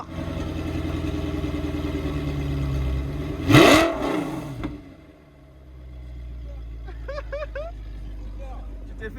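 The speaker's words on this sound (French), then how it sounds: "j'ai accéléré jusque à 3500 tours" An Audi R8 engine revs up to 3500 rpm, a loud sustained roar that peaks and then drops back to a low idle rumble, with brief voices after the rev dies down.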